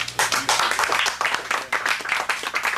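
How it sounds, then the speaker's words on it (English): People at a 2004 reunion of Strike Fighter Squadron 41 aboard the USS Hornet clap together in a close, brisk burst of sharp, rapid handclaps from a small group. "I want to applaud."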